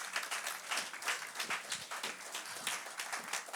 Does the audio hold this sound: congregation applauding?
yes